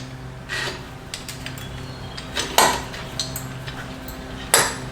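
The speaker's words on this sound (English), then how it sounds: "we can install the cable guide" Parts of a Harbor Freight Badland ZXR2500 winch clatter as its cable guide is installed: a few sharp metallic knocks and clanks spaced apart, close and fairly loud, with no talking.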